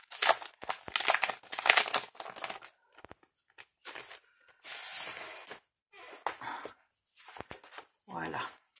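Matching decorative papers are handled close by in short bursts of crisp crinkling and rustling, separated by quiet gaps.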